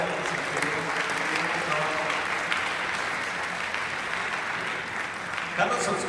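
Steady, dense applause from a university audience fills the room for about six seconds, even and continuous with a small swell near the end, voices faintly mixed in.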